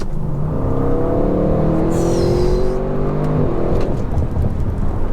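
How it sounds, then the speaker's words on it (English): An Audi RS6 with a twin-turbo V8 producing 600 brake horsepower pulls hard, its engine note climbing in a long, loud rise before easing off near the end. No one speaks. "that, ladies and gentlemen, is a V8 twin turbo pushing out 600 brake horsepower and 800 newton meters of torque"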